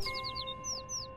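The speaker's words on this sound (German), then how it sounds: "Die Sache ist, die da unten ist ein Vogel." A small bird in the video game Little Kitty, Big City chirps in quick, bright tweets, first a rapid run of four notes and then a few slower ones, clear and close over a faint steady tone.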